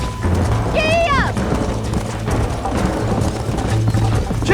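A horse gallops in the Red Dead Redemption video game, rapid hoofbeats thudding steadily under game music and a rider's voice, with a short whinny rising early in the stretch.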